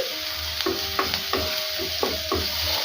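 A spoon stirs garam masala and cumin powder through a frying mixture in a hot pan, giving about six scraping strokes over a steady, close sizzle with no talking.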